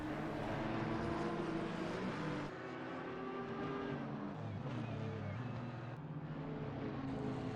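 GT3 and GT4 race cars in a multi-class racing game, engines droning steadily on track with shifting pitch as cars pass and change gear, a continuous mid-level roar.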